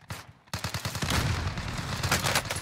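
Rapid automatic gunfire in Call of Duty Warzone, a sudden dense burst of shots starting after a brief quiet moment and continuing steadily, loud and close.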